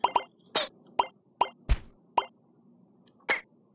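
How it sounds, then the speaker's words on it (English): Short, sharp cartoonish pops and blips repeat at uneven intervals, with one lower, longer buzzy burst standing out like a comic fart effect, from the mobile game Monkey Flight. "that was a fart sound."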